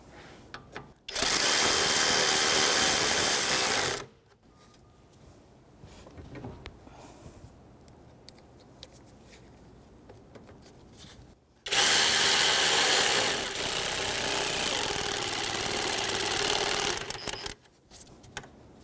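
Two long, loud bursts from a power tool with a 10mm socket drive self-tapping bolts on a 2005-2021 Nissan Frontier 4.0L V6 alternator, with quiet handling noise between the close, steady whirs.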